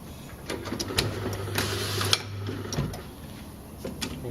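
A BenchMAX electric semi-automatic label applicator puts a single label on a bottle: a steady motor hum runs for about two seconds amid light mechanical clicks and taps, close by in a quiet room.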